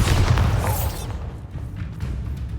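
A Bombarda blasting spell explodes in a Hogwarts video game: a heavy, loud boom with deep rumble and a bright crackling burst that fades into a lingering low tail.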